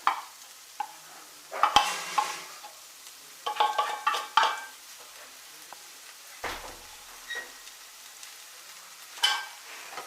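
Egg noodles with chopped cheese are stirred in a pan, with bursts of clinking, scraping utensil strokes against the pan in irregular clusters over a faint background, close by and without speech.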